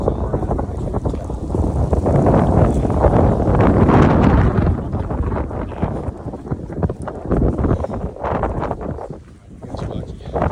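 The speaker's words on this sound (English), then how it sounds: "The wind is still maybe 40 somewhere around there." Strong wind at sea buffets a sailboat, a loud, continuous roar of gusting air and microphone wind noise with surging water underneath, steady for the full length and easing slightly near the end.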